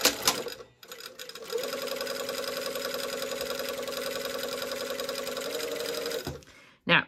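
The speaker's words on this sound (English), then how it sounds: "I sew my dart." A sewing machine stitches a dart on a shirt dress, a steady continuous whir running for about five seconds after a brief start, close and loud, then stopping with a short clunk at the end.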